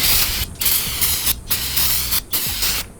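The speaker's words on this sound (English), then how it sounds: "So you want to remove all that with some brake cleaner." Brake cleaner sprays in a steady, loud hiss onto a brake part during a Volkswagen GTI brake upgrade, broken by a few brief pauses between bursts.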